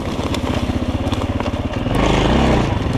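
A GEON X-Road 250 PRO enduro motorcycle runs close by off-road, its single-cylinder engine thumping in a rapid, steady pulse before the throttle opens into a louder, rising rev.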